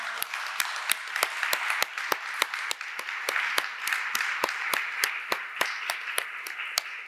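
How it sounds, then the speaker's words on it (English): An art-event audience at the Serpentine applauds the artists, a broad wash of clapping punctuated by crisp, evenly spaced sharp claps in a steady rhythm, without talk over it. "Please give all the artists a very big round of applause"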